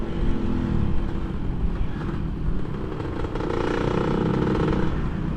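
A motorcycle fitted with an FJP aftermarket exhaust runs steadily with a loud, rough, throaty exhaust note. The bike has not been ridden for a while and its tires are low.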